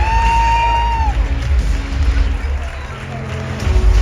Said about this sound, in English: So everyone give our leaders a round of applause.